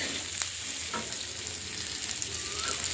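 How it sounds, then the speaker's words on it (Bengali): Washed masoor lentils frying in a pan with onion and green chillies, a dense continuous sizzle with brief stirring scrapes close by. "এই দেখুন ডালটা এইভাবে ভেজে নিয়েছি।"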